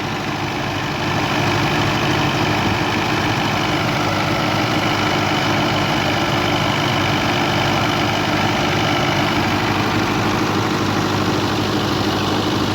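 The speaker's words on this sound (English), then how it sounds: "belt driven by a Fordson Major. Fordson Power Major, belt driven there." A Fordson Power Major tractor belt-driving a Ransome threshing drum makes a loud, continuous mechanical hum and rumble with steady vibration and no pauses or talking.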